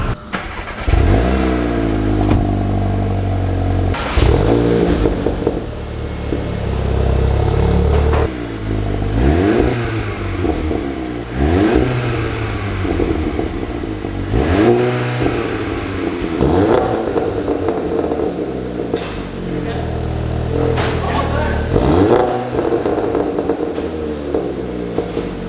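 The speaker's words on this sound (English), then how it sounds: "It's a good sounding GTI." A Volkswagen GTI Mk7 engine fitted with a CTS downpipe revs hard again and again, rising and falling in loud bursts at close range with a throaty, popping exhaust note.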